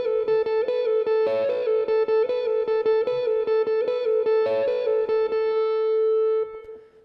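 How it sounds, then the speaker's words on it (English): Electric lead guitar playing a pull-off riff from a song through effects with light distortion: a steady run of quick, evenly picked and pulled notes in a repeating figure, ending on a sustained note that fades, played alone. "we go to this little pull-off riff that sounds like this."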